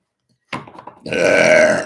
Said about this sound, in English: Spirit makes me burp